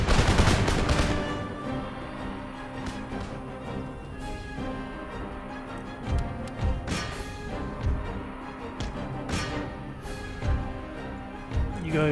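Musket volleys from a battle in Empire: Total War, with dense crackling gunfire that opens with a heavy barrage and then continues as scattered volleys and pops over the din of combat.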